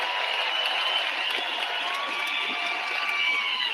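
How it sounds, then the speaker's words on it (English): A crowd at a Canada First political rally applauds a Second World War Canadian Navy veteran, a steady distant wash of clapping and cheering with a few sharper claps, faint rather than close. "A round of applause."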